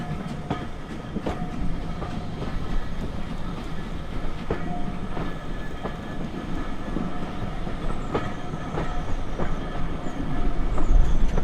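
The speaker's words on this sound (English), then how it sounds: "as you can tell by the fact that the train's already left again" An Isle of Wight steam railway train pulls away from a station, its carriages rumbling and wheels clicking over the rails in a steady rolling sound that builds slightly toward the end, with no talking.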